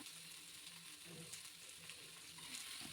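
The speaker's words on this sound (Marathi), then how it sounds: "सेंधव मीठ टाकून नंतर छान असं परतून घ्यायचं" Potato slices with rock salt being sautéed in a pan during fasting-day cooking, a soft steady sizzle with faint spatula scrapes and light clicks, quiet and continuous.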